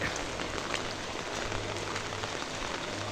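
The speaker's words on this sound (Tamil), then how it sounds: "நல்ல மழை பெய்யுது." Heavy rain pours steadily, a dense continuous hiss of drops striking surfaces with no pauses and no voices.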